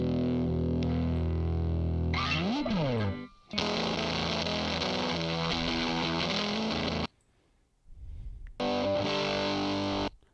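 Heavily distorted electric guitar, loud and saturated, with sustained chords, a sliding pitch bend, a short silent gap, then more crunchy playing.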